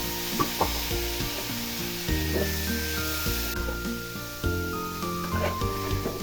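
Salt-boiled chickpeas go into a hot pan with turmeric and sizzle steadily while being stirred, with soft scraping strokes and faint sustained tones in the background.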